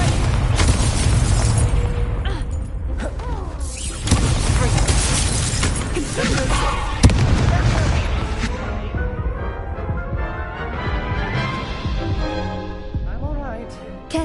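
Incendio fire spell cast in the Hogwarts Legacy video game, a loud booming burst of magical fire with crackling blasts and impacts, mixed with game music and character voices throughout.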